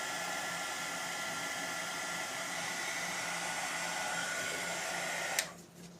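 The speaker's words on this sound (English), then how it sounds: "fire up the heat gun," A heat gun shrinks heat-shrink tubing on a trailer hitch cover wiring job, a loud steady blowing roar that runs without pause before cutting off sharply near the end.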